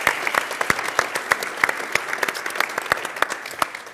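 Audience applauding to congratulate a newly named Java champion at a Java Council gathering, steady clapping from a room full of people with a few sharper close claps, continuous for the whole stretch.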